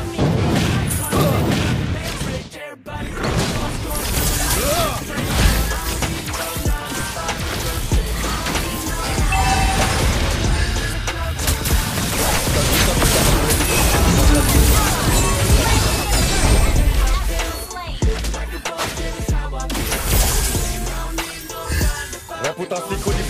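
Fiery rain-of-shots skill in a mobile battle game, starring a Starlight skin, unleashing a dense continuous barrage of booming blasts and crashes that stays loud throughout, with brief dips, mixed with game music and effects.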